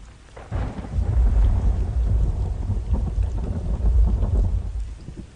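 A heavy thunderstorm rumbles low and close in a radio drama sound effect, the deep rolling thunder swelling over steady rainfall and easing off toward the end.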